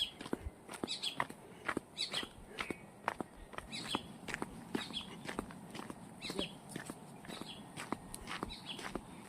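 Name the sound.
birds chirping near Vangani beach village road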